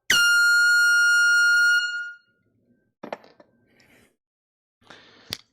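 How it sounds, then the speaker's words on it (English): A mini air horn lets out one loud, piercing high-pitched blast lasting about two seconds, followed by quieter knocks and rustling at a live vinyl record sale. "so that's worthy of the air horn"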